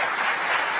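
Studio audience applause during a live Las Vegas television broadcast, a brief dense burst of clapping, steady and moderately loud.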